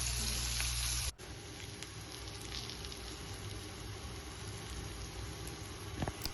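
Tuna pieces sizzle in hot oil in a pan for Kerala-style fish fry, a loud steady hiss that drops abruptly as the fish is turned, then continues more quietly with faint crackles.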